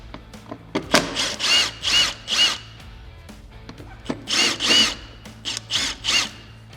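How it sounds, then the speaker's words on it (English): Power drill backing out T30 screws from the factory plastic on a Can-Am Maverick X3, several short whirring bursts in quick succession with brief pauses between, close and loud. "go ahead and remove all of the following T30 screws out of the factory plastic"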